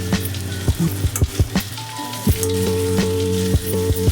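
Potato fry curry sizzles in oil in a pan while a spoon stirs it, with repeated scraping knocks over a steady loud fry.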